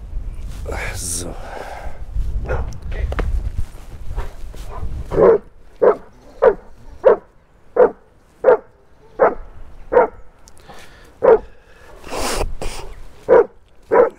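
A stressed dog barks repeatedly during an encounter with another dog outdoors, a steady run of sharp, fairly close barks at regular intervals, with a person speaking softly before and after.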